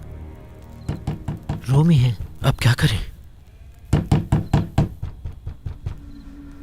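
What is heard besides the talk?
knocking on a door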